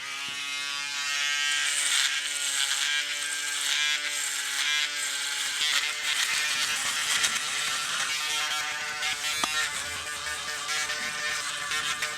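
An electric rotary shaver buzzes continuously at close range, its whine wavering slightly as it moves, with no talking.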